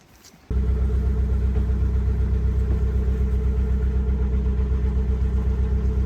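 A patched-up boat engine starts up and runs steadily, a loud continuous low rumble with a regular throbbing idle that holds for several seconds.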